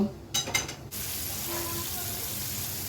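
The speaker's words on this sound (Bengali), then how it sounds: "ঝোল ফুটে উঠেছে তাই জন্য আমি একটা একটা করে মাছ ছেড়ে দিচ্ছি ঝোলের মধ্যে" Marinated hilsa fish pieces drop one by one into a boiling curry broth. A few soft clatters and splashes come first, then a steady, moderately loud bubbling hiss.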